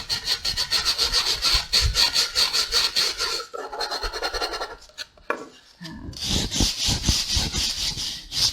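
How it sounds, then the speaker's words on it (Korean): Sandpaper rubs back and forth over a wooden handle in a woodworking class, a close, rhythmic rasping scrape in quick repeated strokes with a brief pause midway. "사포를 세워서 이 손잡이 부분을 충분히 다 해줘야 되겠죠"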